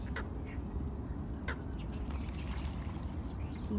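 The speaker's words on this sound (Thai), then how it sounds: "ได้ยินเสียงเป็ดไหม" Faint ducks quack now and then over a steady outdoor rumble in a garden in America, distant and soft with no talking.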